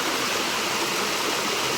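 The Thalakaveri waterfall and its stream pour in a dense, continuous rushing wash of water, loud and close, with no other sounds standing out.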